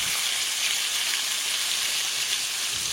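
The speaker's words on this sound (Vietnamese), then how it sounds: "Bắc chảo lên bếp và chiên giòn." Battered fish fillets, 600 g, deep-frying in a pan of oil: a steady, dense, close crackling sizzle that fills the whole clip at an even level, with no talk over it.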